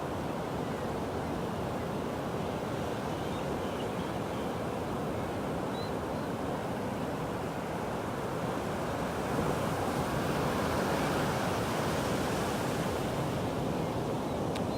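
Ocean surf at the Wedge in Newport Beach, California, where 20-foot waves roll in, gives a steady broadband wash of breaking water mixed with wind buffeting the microphone, swelling slightly louder near the end.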